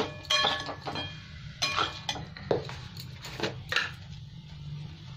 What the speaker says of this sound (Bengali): আমি এরকম নেড়ে ছেড়ে তুলে নেবো